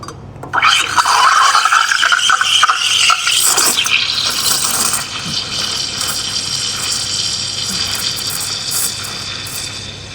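The steam wand on a Profitec GO II single-boiler espresso machine purges excess water with a sudden sputtering gush, which settles into a steady, close hiss of steam.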